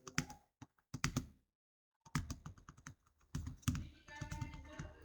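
Bursts of computer keyboard typing with clustered key taps, a pause, then more rapid keystrokes during spreadsheet data entry in an Excel exercise, close and fairly quiet with no talking.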